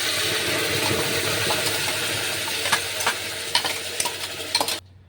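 Tomato paste sizzles steadily in a hot pan with cinnamon and cloves, a spoon scraping and stirring in irregular strokes until the sound cuts off abruptly near the end.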